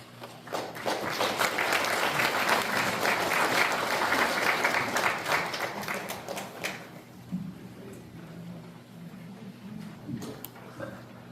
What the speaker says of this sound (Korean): 약사 보고해주신 광복회 경기도 지부 김호동 지부장님께 다시 한번 큰 박수 부탁드리겠습니다